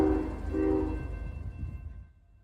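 A CSX M332 freight train with a CEFX locomotive passes, a low rumble with tonal horn-like hums that fades away over a few seconds, no voices.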